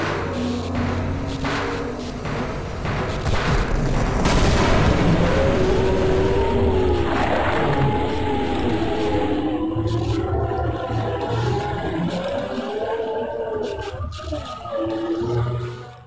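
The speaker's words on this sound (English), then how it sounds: "Now to turn on the rocket." Powerful rising roar of a rocket engine firing up in Half-Life, building to a sustained loud rumble with mechanical whines and tonal hums layered over the top for several seconds.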